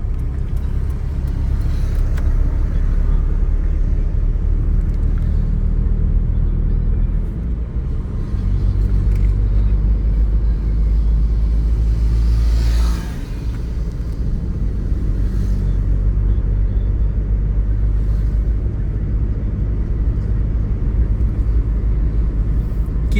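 Steady road traffic on Delhi streets near Pragati Maidan, a continuous low car rumble of vehicles passing close by with a brief lull midway, no talk.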